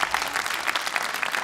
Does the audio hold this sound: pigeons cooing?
no